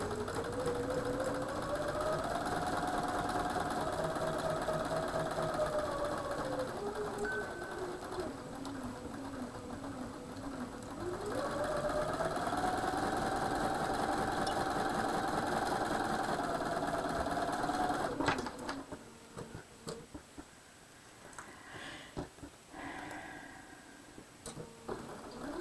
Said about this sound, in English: now I'm going to sew these up. And I'm sewing on that line that I drew.